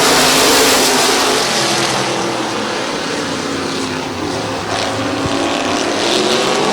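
Stock cars powering up at the green flag on the Midvale Speedway oval during the Fall Classic, a loud continuous blend of many engines that dips briefly mid-way before swelling again.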